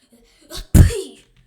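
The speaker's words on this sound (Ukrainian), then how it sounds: "Фух, чихнув." A single sharp sneeze, close and loud, preceded by a brief inhaled build-up, then quiet, heard while playing Minecraft.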